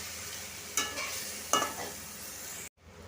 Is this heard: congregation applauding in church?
no